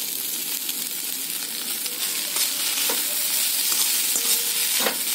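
Banana stem rice with chopped coriander and lime juice is stirred in a hot pan, a close, steady sizzle with scraping and tapping from the spoon and no speech.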